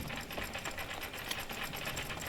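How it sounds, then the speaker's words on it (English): A crossbow is reloaded in the Dark and Darker video game, producing a fast, steady mechanical whirring and clicking, close and continuous, with faint game ambience beneath. "Now I wisen up and reload my crossbow."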